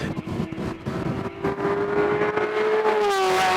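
A Ferrari 348 race car at the Gurston speed hillclimb accelerates hard up a long rise, its engine note climbing steadily under full throttle, loud and close, with crowd and wind noise around it.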